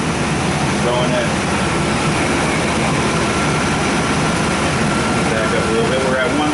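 A car's A/C compressor runs with the engine idling while refrigerant is being charged, making a steady, loud, unbroken drone and hum throughout, with no clear change in load.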